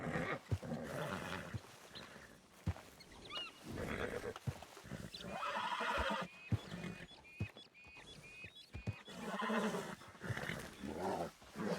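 Horses in a roleplay video game neighing and whinnying over thudding hoof sounds, several loud, overlapping animal calls and snorts spread through the clip with no talk.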